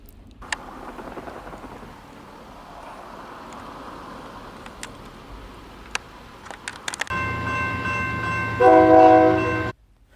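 Trains waiting on the line in a railfanning setting, with quiet rumbling ambience and scattered clicks, then a loud, sustained multi-tone train horn blast near the end.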